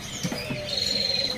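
A male mini mantenan bird at a market kiosk lets out a few short, high chirps and one thin sustained whistle, close and fairly clear over a low murmur of background noise.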